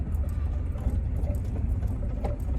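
A truck engine rumbles low and steady in a video game, a dull continuous drone with faint rattling on top and no clear voice.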